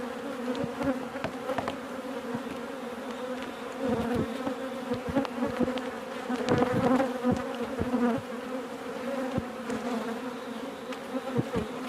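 Agitated honeybees swarm around an open beehive during an inspection, making a dense, continuous buzzing drone close by, with individual bees zipping past and small clicks and knocks of the hive frames mixed in.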